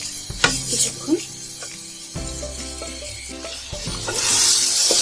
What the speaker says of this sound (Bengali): এখন এটা আমি ভাজবো কিছুক্ষণ।